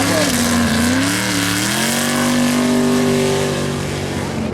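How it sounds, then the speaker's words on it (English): A no-prep drag race car at North Weald spins up its rear tyre, a loud sustained engine roar with rising and falling harmonic revs held steadily for several seconds, under faint commentary. "spinning up the rear tyre there"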